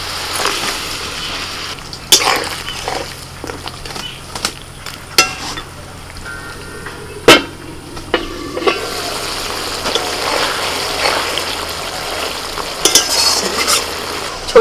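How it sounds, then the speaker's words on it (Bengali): Small fried koi fish go into a simmering spiced curry, with intermittent sharp clinks and scrapes of stirring over a soft background bubble and sizzle. "মশলা ফুটে গেছে, এবার ভাজা মাছ দিয়ে দিচ্ছি।"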